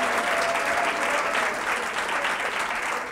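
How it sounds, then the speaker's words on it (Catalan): Steady, dense applause from a studio audience on a Catalan TV quiz show for school teams, filling the whole moment with broad, even clapping and no voices. "Déu-n'hi-do, un aplaudiment"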